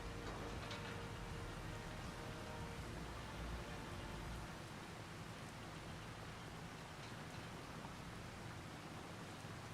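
Steady rain falling in the farming game Farming Simulator 25, a dense, even hiss of drops that holds without a break throughout, with a faint low rumble under it for the first few seconds.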